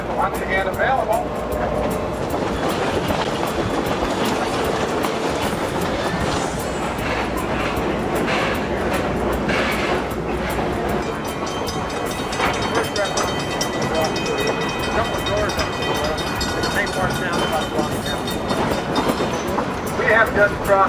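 A California Western Railroad passenger train with an observation car rolls along the rails, giving a continuous close rumble with steady wheel clatter and squeal that runs unbroken the whole time.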